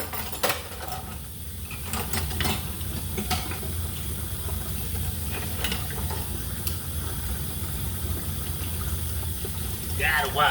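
Tap water runs steadily into a kitchen sink during washing up, a continuous hiss with occasional clinks of dishes, close by and fairly loud.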